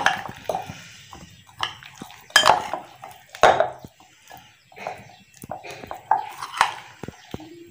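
Spices and lemon juice being mixed into fish pieces coated with gram flour, heard as irregular clinks and scrapes of a spoon against a metal bowl, close and fairly loud, with faint low handling sounds between them.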